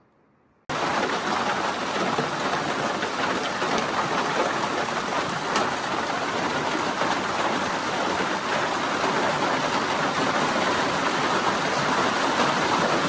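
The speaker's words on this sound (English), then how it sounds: "So you can't see the rain, but you can hear it." Steady rain patters and hisses without pause, a dense even wash of drops on surfaces, with no voices.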